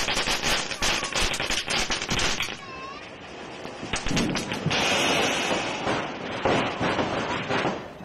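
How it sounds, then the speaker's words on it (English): Diwali firecrackers burst across Delhi in rapid crackling volleys, then fall to scattered distant pops and bangs against a noisy city background. "As Diwali firecrackers erupted across the city"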